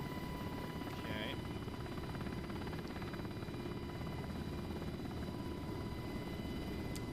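A UH-60L Black Hawk helicopter in the DCS flight simulator: a steady, low, droning rotor and engine rumble that holds constant throughout, with a faint high whine on top.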